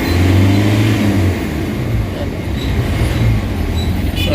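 An Isuzu MU-X diesel engine with a blow-by problem drones and revs loudly up close, its pitch shifting as it climbs toward 3,000 to 4,000 RPM, with a faint voice beneath.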